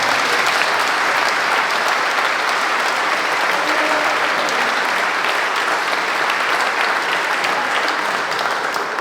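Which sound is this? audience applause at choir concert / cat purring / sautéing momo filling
audience applause at choir concert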